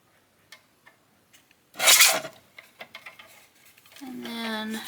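Paper edge being trimmed for an envelope journal, a quiet room with a few faint taps, then a short loud rasping cut about two seconds in, followed by soft ticks and a hum.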